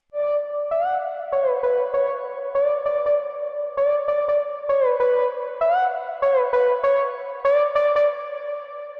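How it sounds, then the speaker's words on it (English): Filtered electronic lead synth from an EDM drop, drenched in heavy reverb, playing a bright melodic line of repeated staccato notes with gliding pitch bends and long echoing tails, no voices. "introducing the main lead from the drop. It's filtered down at first and also going through a lot of reverb."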